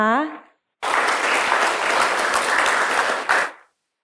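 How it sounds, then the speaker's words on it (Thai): A voice speaks briefly, then an audience at a seminar on global warming breaks into close, steady applause for nearly three seconds before it stops abruptly. "และขอเสียงปรบมือด้วยนะคะ"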